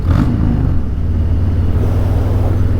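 A motorcycle rides along a road through an airport area, its engine a close, loud, steady rumble with a low drone throughout and no pauses.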